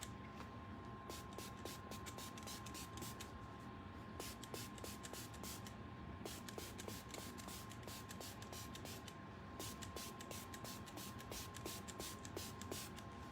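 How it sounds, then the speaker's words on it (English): Short, rhythmic bursts of a hand spray bottle mist patina activator onto painted metal, repeated pumps hissing in quick clusters close up over a faint steady hum. "Okay, here's our spray again."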